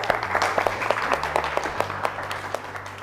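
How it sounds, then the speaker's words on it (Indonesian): Applause for participants at a rupiah awareness competition, a steady run of light, rapid clapping throughout over a low hum. "beri aplaus untuk kalian"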